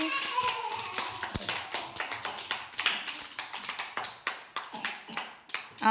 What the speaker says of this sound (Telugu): క్లాప్స్ కొట్టండి నితీష్కి